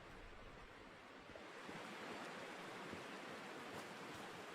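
A waterfall in the video game Call of the Sea gives a steady, broad rushing roar of falling water, constant and fairly close, with no voices.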